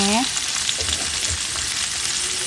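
Shallots sizzle in hot oil with a loud, continuous crackle and occasional stirring scrapes close by. A brief voice sounds at the very start.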